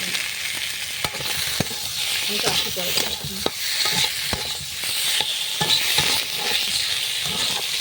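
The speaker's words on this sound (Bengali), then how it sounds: "ভালো করে ভেজে নিতে হবে আলুর সাথে মশলার সাথে" Boiled potatoes fry with spices in hot oil under a steady, loud sizzle, while a spatula stirs and taps the pan in an irregular rhythm.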